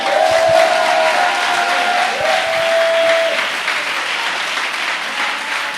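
A church congregation applauding and praising the Lord, a loud, sustained wash of clapping from a crowd that fills the space steadily throughout, with a faint tone ringing through it.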